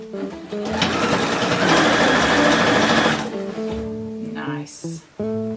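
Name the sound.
sewing machine stitching bias tape on a dress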